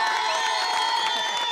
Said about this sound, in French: on l'applaudit, là, les premiers.